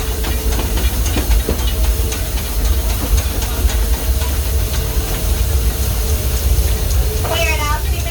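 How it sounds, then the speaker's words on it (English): Steady hissing steam and rumbling steam locomotive noise run throughout, heard riding behind Disneyland Railroad engine Ernest S. Marsh No. 4 at night, with a brief warbling whistle-like tone near the end; continuous and fairly loud. "We are now steaming our way into the Toontown depot."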